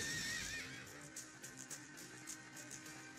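Horses in the video game Sengoku Basara 2 Heroes: a sharp whinny opens, followed by faint, quieter neighs and soft repeated clatter over a low background.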